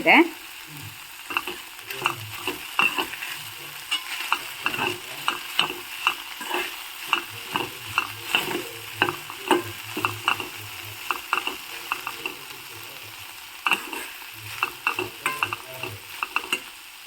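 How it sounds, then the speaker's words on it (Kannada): Okra (ladies finger) fries in a pan for Mysore Brahmin style gojju, a steady sizzle broken by frequent, rhythmic spatula scrapes and clicks close by, with no talking. "ಈ ಕಡೆ ಇಲ್ಲಿ ಬೆಂಡೆಕಾಯಿ ಚೆನ್ನಾಗಿ ಫ್ರೈ ಆಗ್ತಾ"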